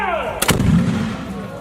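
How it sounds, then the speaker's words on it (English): A black powder cannon at Fort Macon fires a basketball-sized cannonball in one loud, deep boom that rolls and rumbles away into a long echoing tail. "we will have just enough powder to fire the cannonball over the wall of"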